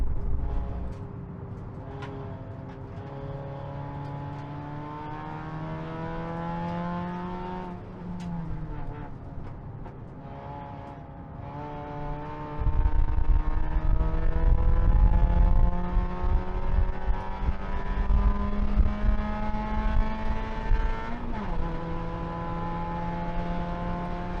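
A race car is driven flat out during a race, the engine note climbing through the gears with repeated upshifts and a sharp drop, heard from inside the car as a loud, continuous roar.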